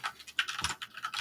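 A web address is typed on a computer keyboard in a short, quiet burst of rapid key clicks.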